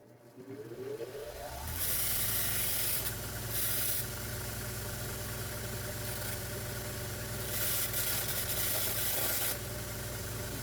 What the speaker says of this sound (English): we're gonna Scotch-Brite wheel those